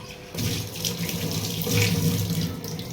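A tap turns on and water runs steadily into a sink, a close, continuous splashing stream with no voices.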